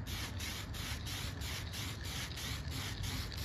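Close, steady hiss of spray paint misting a light coat over glazing putty and body filler on a 2011 Chevy Malibu, with fast rhythmic pulsing and no talk.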